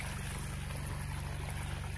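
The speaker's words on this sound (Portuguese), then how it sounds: "a água já tá caindo aqui" Irrigation water from a motor pump pours steadily onto soil in a flood-irrigated field, a continuous rushing flow over a low, even engine drone.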